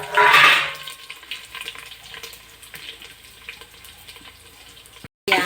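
Water is poured into a hot cooking pan holding a tempering of mustard seeds and garlic for a chicken curry. It starts with a loud, brief rushing splash, then gives way to quieter bubbling and sizzling.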